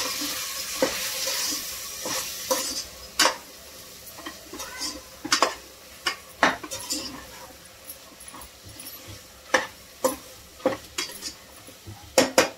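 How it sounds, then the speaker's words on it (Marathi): Potatoes go into a sizzling pan for Khandesh-style khichdi and are stirred, giving faint frying hiss with scattered sharp clinks of a metal spoon against the pot throughout. "टाकते मी बटाटे."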